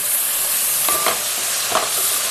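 Onions for a mutton curry sizzle and hiss steadily in a pan while a spoon stirs them, scraping twice at a moderate, unhurried pace, close and fairly loud, with no voices.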